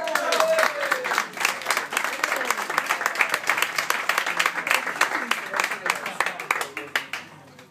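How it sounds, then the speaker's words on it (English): A magic show audience at the Magic Castle breaks into loud, close applause, dense clapping that swells, holds steady, then thins out toward the end. "run up here and give him applause"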